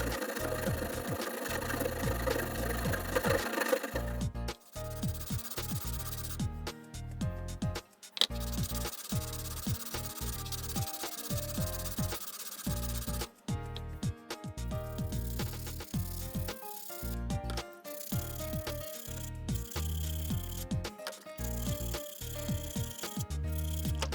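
A hand file worked back and forth on an aluminum rod, giving steady rhythmic rasping strokes close up that continue with brief pauses throughout.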